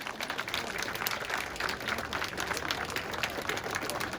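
Steady, dense applause from a rally audience in Berdavan fills the whole stretch, many hands clapping at once with no pause.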